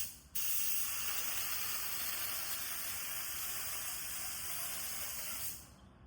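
A paint sprayer hisses in one steady, loud spray for about five seconds, with a thin high squeal over it from too little paint, then cuts off.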